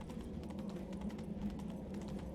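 Steady clip-clop of horse hooves in The Witcher 3: Wild Hunt, at a quick, even pace through a storm over a low rumbling background, fairly soft and continuous.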